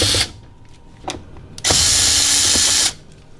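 A power drill with a Phillips bit backs screws out of a refrigerator grill: two short bursts followed by a longer steady whir, close up with faint clicks between.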